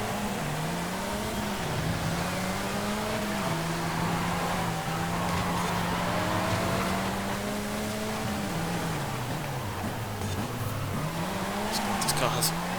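A Saleen S1 race car engine in the racing game Forza Horizon 5 drones steadily and loudly throughout, its pitch rising and dipping with gear changes and throttle under continuous road noise.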